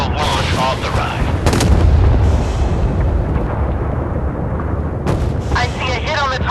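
Naval guns and torpedo launches in the Force of Warships video game boom loudly and continuously, with heavy rumbling blasts and a voice speaking briefly at the start and end.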